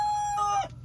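Australorp hens out on pasture for the first time give a brief, close crow-like call with a clear, steady tone, which breaks off before a short quiet tail.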